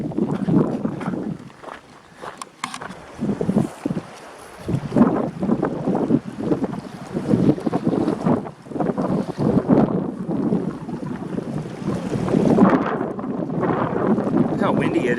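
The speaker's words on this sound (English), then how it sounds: "Look how windy it is here." Strong wind buffets the microphone beside a lake in the woods, a steady rushing roar with gusty surges throughout, loud and close, with occasional footsteps.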